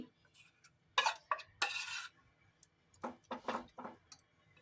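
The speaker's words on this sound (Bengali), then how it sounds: "ডিমটা দেওয়ার পরে আমি এখান থেকে আদা রসুন আর লঙ্কা বাটা এটাও মিক্সড করে দিচ্ছি" Ginger, garlic and chili paste is mixed into chicken with an egg, giving scattered scrapes, clinks and wet squelches of stirring in a bowl, close and intermittent with quiet gaps.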